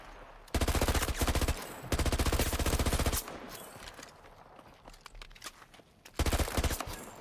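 Bursts of P90 submachine gun fire in Battlefield 2042: three loud rapid-fire strings of about a second each, separated by quieter gaps filled with scattered in-game noise.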